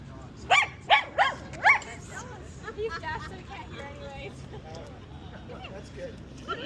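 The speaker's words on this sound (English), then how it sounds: "Cute little dog." A small dog barks four times in quick succession near the start, sharp and fairly close, on an afternoon walk on Vancouver Island, British Columbia, with a low murmur of voices and outdoor background continuing after the barks.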